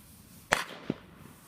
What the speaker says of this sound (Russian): петарды взрывают